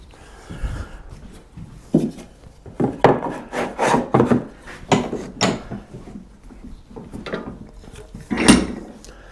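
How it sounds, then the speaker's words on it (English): A tenon saw cuts a wooden dovetail halving joint by hand, with a series of rasping strokes that sound close and come in an uneven back-and-forth rhythm. "You need to take this out with a tenon saw."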